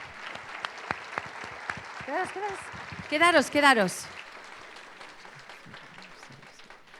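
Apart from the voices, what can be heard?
audience applause in church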